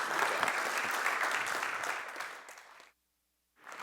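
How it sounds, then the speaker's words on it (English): A crowd at a talk event breaks into steady, dense applause that fades out, stops briefly, then resumes. "give him a round of applause"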